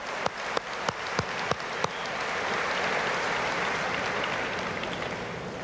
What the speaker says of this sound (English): Give her another warm round of applause.